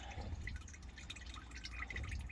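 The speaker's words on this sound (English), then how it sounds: "So we're just gonna keep rinsing this through" Water rinses loosened gunk out of a 2007 Kawasaki Vulcan 1500 Classic motorcycle gas tank, giving a close, steady trickling and dripping splash with a low hollow rumble, moderately quiet throughout.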